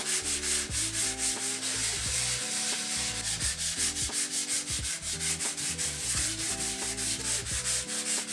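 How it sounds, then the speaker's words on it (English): Closet walls being sanded by hand: a continuous close rasping scrub with a steady back-and-forth rhythm, accompanied by a low mechanical hum in the background and no talking. "I just spent this morning sanding on the walls."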